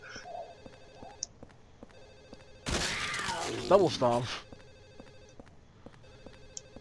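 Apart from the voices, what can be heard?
telephone ringing in the video game Silent Hill 4: The Room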